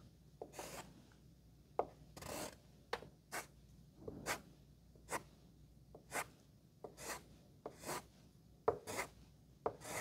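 A palette knife scrapes and pushes watercolor paint across paper while shaping mountains in an abstract landscape, a series of short, close rasping strokes in an irregular rhythm with quiet gaps between them.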